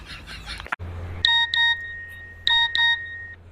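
A mobile phone chimes for an incoming message: two quick pairs of bright electronic beeps about a second apart, close and clear over a low hum.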